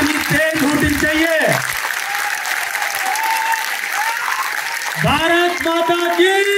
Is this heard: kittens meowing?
no